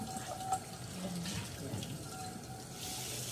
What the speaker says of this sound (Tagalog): hugasan ko yung blueberry